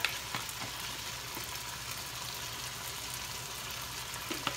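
Ground pork and beef frying with tomato in a pan, giving a steady, close sizzle with faint occasional scrapes of stirring throughout.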